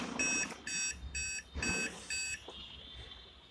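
An Aquaguard UV water purifier gives a fault warning of five short, shrill electronic beeps in a steady, evenly spaced rhythm. The beeps are fairly quiet, come from close by, and sound over a faint background hiss before they stop.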